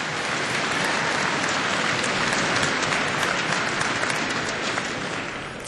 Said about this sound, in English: can you please give a round of applause for all these folks and their hard work